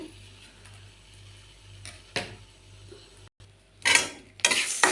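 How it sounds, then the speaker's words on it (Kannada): Horse gram dry-roasting in a pan for chutney, with faint scattered crackles and pops that rise into louder bursts of sizzling crackle near the end, no talk. "ಹುಳ್ಳಿಕಾಳು ಈ ಥರ ಪಟ ಪಟ ಅನ್ನೋವರೆಗೂ ಹುರ್ಕೊಂಡು ಸಿಗುತ್ತೆ"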